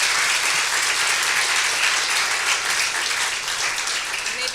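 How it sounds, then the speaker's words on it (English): A conference audience at a global-risks forum gives sustained, dense applause that stays loud and even for several seconds, with a voice faintly audible beneath the clapping. "So another round of applause, please."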